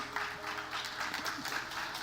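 A small scattered group of people clapping in a church, a thin, steady patter of applause filling the space without any voices.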